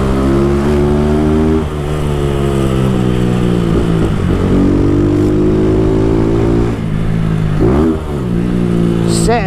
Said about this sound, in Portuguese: A moto já tava engatada,